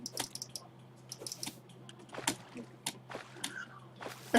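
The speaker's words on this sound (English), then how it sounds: "I know you can hear me clicking because for some reason my mic loves to pick up clicking" Scattered mouse and keyboard clicks while playing Terraria, picked up by a nearby desk microphone, sharp irregular taps over a low steady hum.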